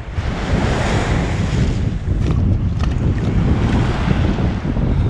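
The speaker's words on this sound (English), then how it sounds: "Semi-rigid inflatable. It's got a aluminium hull and tubes around the outside." Ocean surf and wind sweep steadily around a semi-rigid inflatable boat with an aluminium hull and inflated tubes around the outside, off Keppel Island, with constant loud wash and wind buffeting the microphone and no voices.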